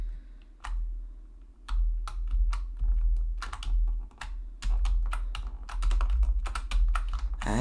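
Arrow keys on a computer keyboard clatter in irregular quick bursts of sharp clicks while someone plays Duck Life: Space, heard close with no talking over them.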